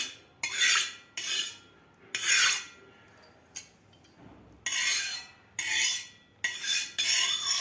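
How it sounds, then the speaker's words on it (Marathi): Repeated scraping and rubbing of a utensil spreading oil across an iron griddle in several bursts, with short pauses between strokes, close and fairly loud. "व्यवस्थित तेल लावायचं आपल्याला"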